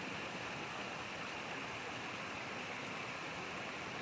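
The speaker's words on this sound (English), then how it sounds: "Sitting here peacefully on the bank of the Coomahorna River, in the upper valley" The Coomahorna River flows through its upper valley in a steady, close wash of running water, an even rushing murmur that stays constant throughout with no voices.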